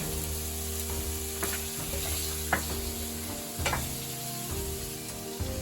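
A roughly chopped onion sautés in a knob of melted butter, a continuous close sizzle with occasional clinks and scrapes from stirring.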